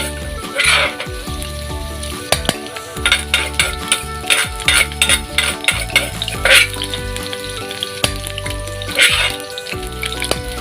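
Pounded chili and garlic stir-fry in hot oil for a silver barb fish krapow, with a close, steady sizzle broken by repeated bursts of spatula scraping and clatter.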